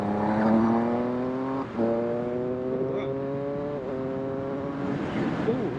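Triumph motorcycle with standard Arrow exhaust cans accelerating hard past a car on the road, a steady loud engine drone rising in pitch across two gear changes, close and continuous.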